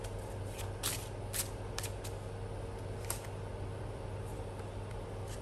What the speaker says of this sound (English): Let me just pick some more cards.